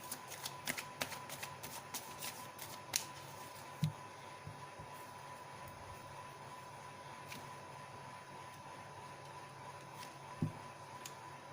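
Tarot cards are handled and shuffled with a run of quick, soft flicking riffles at first, then sparse light taps and rustles over a quiet background.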